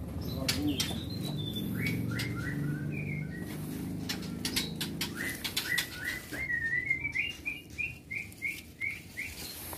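Several white-rumped shamas whistle and chirp in bright repeated phrases at a bird farm in Lhokseumawe, Aceh, some close and some farther off, over a low murmur of background noise.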